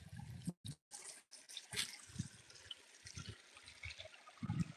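Water trickling down from a rainwater collector outdoors: faint, irregular dribbles and drips with short gaps, quiet and close.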